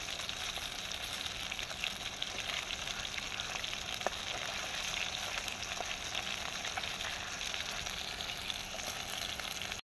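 Food frying in a blackened, scorched wok over a firewood fire at a forest picnic, a dense, continuous hiss and sizzle that stays even and steady.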